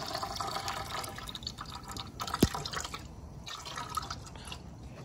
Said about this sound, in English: All right, we got the coolant draining. Got that hose hooked up.